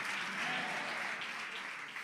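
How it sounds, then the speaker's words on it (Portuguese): A church congregation at a Sunday celebration service claps steadily, with a continuous mid-level applause filling the room for a couple of seconds. "Ele merece o nosso aplauso."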